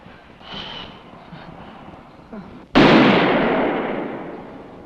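A single loud handgun shot at firing practice, a sharp close blast that rings and slowly decays after a quiet, muffled lead-in.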